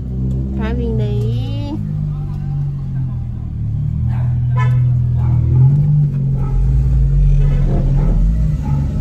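A car manoeuvring and turning while parking on a ramp, its engine rumbling and revving steadily underneath loud nearby talk and exclamations.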